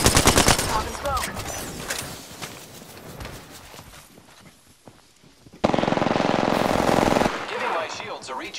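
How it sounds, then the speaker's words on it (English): Video game gunfire crackles loudly in rapid automatic bursts at first, fades into quieter scattered shots, then a dense sustained burst of fire erupts again near the end. "I'm spotted. Taking fire."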